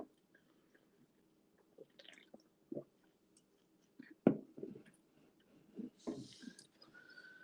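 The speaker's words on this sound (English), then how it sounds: "let's have some lemonade to wash it down" Someone drinking lemonade, quiet close sips, swallows and wet mouth sounds scattered across a few seconds with breaths between, faint against a near-silent room and no talking.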